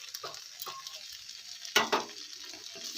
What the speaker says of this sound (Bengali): এই পর্যায়ে আমি ভেজে রাখা পোস্তটা দিয়ে দিচ্ছি